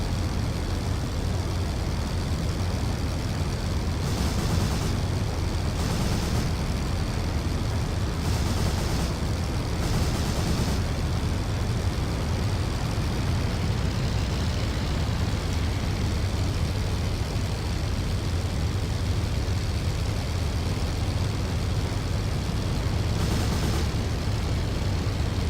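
Rise of Flight game audio of a WWI aircraft engine droning continuously, with several short bursts of machine gun fire cutting through, loud and close with no talk.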